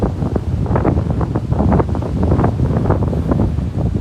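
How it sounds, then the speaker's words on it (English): Loud gusting typhoon wind buffets the microphone in rough bursts, with choppy water splashing underneath, in Okinawa. "Yes, it is a bit windy, and there are some waves here."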